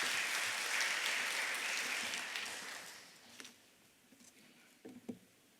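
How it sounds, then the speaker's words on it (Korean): A church congregation at a Friday prayer gathering claps warmly to welcome a lawyer. The dense applause swells, then fades away after about three seconds, leaving scattered soft knocks and rustles. "우리 큰 박수로 우리 환영하겠습니다"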